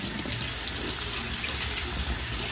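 Running water pouring steadily over a washable Dyson V15 cordless vacuum filter, a loud continuous tap-like rush with no pauses and no voices.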